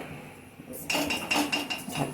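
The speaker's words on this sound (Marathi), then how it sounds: "तर आता इथे मी ठेवली कढई" An iron wok is set down on a stove with a clank, followed by a few light metallic knocks and scrapes close by.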